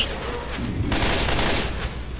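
Video game gunfire rattles out in a dense, loud burst of rapid shots lasting a couple of seconds, with no voices over it.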